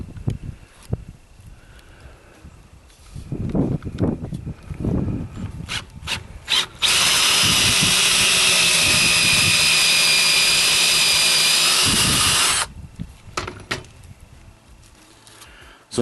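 A power tool cuts deeper into a rain water filter, giving a loud, steady grinding roar for about six seconds, framed by quieter scraping and handling noises before and after.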